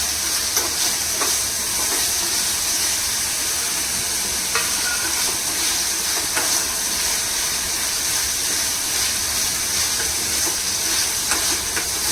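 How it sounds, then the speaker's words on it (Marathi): Potatoes fry in hot oil in a pan, with a loud, steady, dense sizzle throughout and occasional faint stirring clicks, and no talking. "तेलामध्ये फ्राय करून घेऊया बटाटे"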